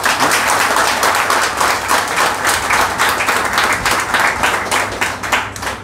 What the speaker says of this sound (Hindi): तो सभी सर के लिए ताली बजा दो एक बार।